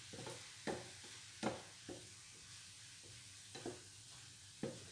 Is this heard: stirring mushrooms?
yes